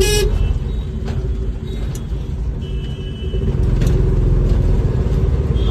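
Loud, close road traffic rumbles continuously in a jam in Alibaug, India, as car horns toot in short bursts over the engine noise.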